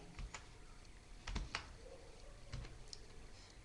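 Quiet typing on a computer keyboard while entering a command during an Office 2021 setup, a few scattered key clicks and short bursts at an even, unhurried pace, close and soft with no talking.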